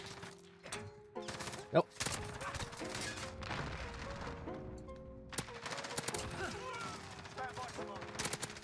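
M4A1 assault rifle fire rings out in the shooter game Modern Warfare, with sharp bursts of shots over steady game tones and music, close and punchy. A player briefly speaks between the volleys.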